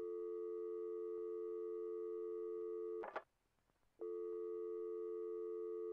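In a Puppet Combo horror video game, a telephone dial tone hums as a steady pure electronic drone, broken by a clack and about a second of near silence before the tone resumes.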